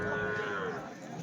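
Bulls lowing at a busy Sunday cattle market in Chintamani, a loud sustained moo ringing out over a dense murmur of crowd noise.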